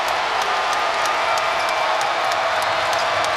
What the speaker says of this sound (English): This crowd trying to urge on NC State.